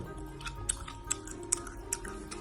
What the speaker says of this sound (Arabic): دي لبانه. تمضغ ازاي؟ كده اهو.